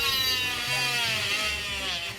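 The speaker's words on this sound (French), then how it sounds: "Pour retirer le plâtre, il faut une scie, mais pas n'importe laquelle." A cast-removal saw cutting through plaster, a continuous high buzzing whine with wavering pitch, steady and close throughout, with no talk.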